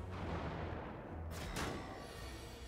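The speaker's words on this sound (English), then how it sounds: "I guess we do get to use the explosion potion then" An explosion potion goes off in the card game Slay the Spire: a single quick, muffled blast bursts out over a steady low background hum, then fades within a fraction of a second.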